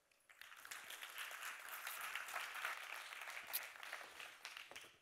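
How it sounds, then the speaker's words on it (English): A conference audience applauds a speaker after his introduction, clapping that swells quickly from a quiet start, holds steady, then begins to fade, heard faintly at a distance. "Give him a warm round of applause."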